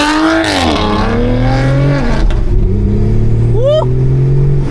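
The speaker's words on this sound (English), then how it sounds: "I want to hear it now. Rev it." A car engine revs loudly and close by at night, its pitch sweeping up and settling into a steady high drone before a brief squealing rise near the end.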